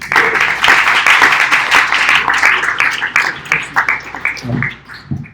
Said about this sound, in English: Let's give another warm round of applause for Neal and Ahmad